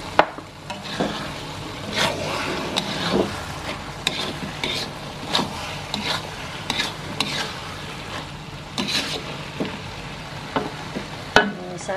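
Stirring flour-and-water batter in a pan with scraping and clinking of a utensil, irregular strokes over a soft sizzle of frying batter, close up.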